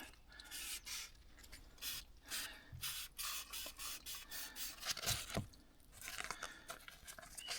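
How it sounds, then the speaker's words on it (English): A Caterpillar D4 diesel injection pump part is rubbed with 2000-grit sandpaper, giving repeated short, close scratchy strokes in an uneven rhythm with a few louder scrapes midway. "I'm going to hit it with some 2000 sandpaper, see if we can clean it up"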